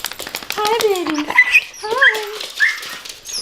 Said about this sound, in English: This is our other puppy. This is the new one.